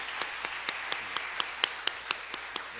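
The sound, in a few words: congregation applauding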